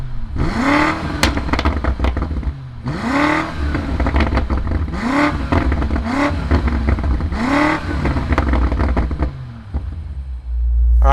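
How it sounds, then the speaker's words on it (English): A 2020 BMW M8 convertible's V8 roars through a series of about five rising revs, each climbing then falling back, loud and close, with a deep rumble between blips. "Let's fire up this V8 and see what it sounds like."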